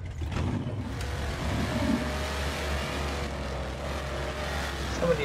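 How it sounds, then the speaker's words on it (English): A mud truck engine in a driving video game revs steadily throughout, a broad continuous rumble at moderate level with slight surges near the end. "Some of these got real good engine sounds to them."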